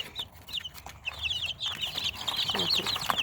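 Chicks cheep in rapid, high-pitched bursts while hens cluck nearby in a small flock, the peeping growing busier and louder toward the end.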